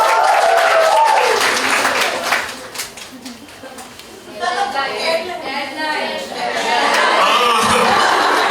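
A crowd of students at a campus event cheers and applauds, with claps, whoops and scattered laughter rising and falling; voices shout over the clapping throughout, swelling loudest near the start and again at the end.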